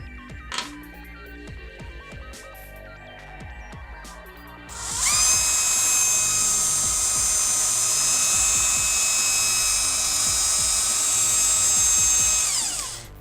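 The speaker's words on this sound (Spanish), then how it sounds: "Y ahora empezaré con el taladro." A power drill bores into the plastic trigger of a PS4 controller, starting with a few light clicks and then settling into a loud, steady high-pitched whine that runs about eight seconds before spinning down.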